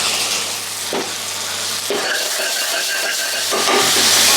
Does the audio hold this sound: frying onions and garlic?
yes